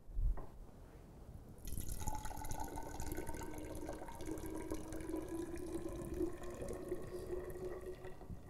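Water trickles and splashes as it is poured back into a measuring cylinder, a steady faint stream after a brief pause, with a rising gurgling tone as the cylinder fills.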